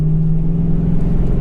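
A 1994 Ford Mustang GT's engine drones as it cruises on the highway: a loud, steady low hum with constant road rumble, heard from inside the car without talk.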